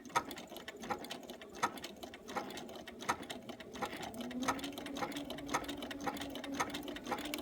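A sewing machine stitches applique in a steady, rhythmic mechanical patter of needle strokes and whirring gears, heard close up with no speech.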